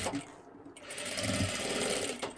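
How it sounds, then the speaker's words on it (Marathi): A sewing machine stitches a frock made from net saree fabric, running in a close, steady, rapid mechanical chatter that goes on without a break. "हे अशा पद्धतीने शिलाई देत देत यायचं आहे."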